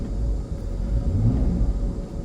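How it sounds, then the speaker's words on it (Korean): Inside the cabin of a Porsche 911 Carrera 991.1, the rear-mounted engine produces a low, heavy rumble that drones steadily throughout, close and muffled, with no talking. "90년대 고속버스 터미널 고속버스들이 나는 엔진 소리 같아요."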